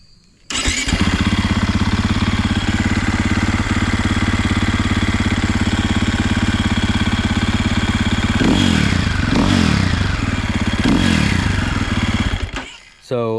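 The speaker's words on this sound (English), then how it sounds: "that kind of leads me to the second point of this is the exhaust note" A Triumph TF450 motorcycle starts and then idles with a steady, moderately loud exhaust note, with a few throttle blips near the end before the engine cuts off.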